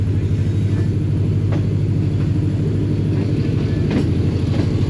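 Tezgam train pulling out of Sahiwal railway station, a steady heavy low rumble of rolling wheels and engine drone lasting throughout, with faint clanks from the cars.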